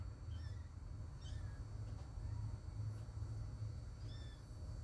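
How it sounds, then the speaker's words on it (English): Faint, intermittent cat calls rise over a steady low rumble, a few short wavering meows scattered through the background. "Goddamn cats over there making all kind of weird noise."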